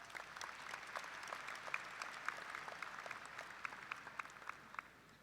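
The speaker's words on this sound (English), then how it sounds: "Would you please give them a round of applause?" Audience applause at a Murray State University spring commencement ceremony, a steady wash of many hands clapping that sounds fairly distant and faint, holding evenly for several seconds.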